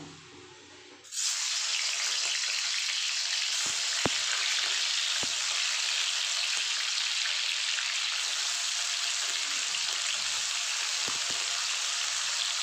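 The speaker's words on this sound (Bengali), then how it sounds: "ভালো করে গরম হয়ে যাক, তারপর আমি পনিরগুলো ভেজে নেব।" Paneer cubes drop into hot oil in a wok and set off a sudden, loud, steady sizzle that continues unbroken, with a few faint clinks and no talking.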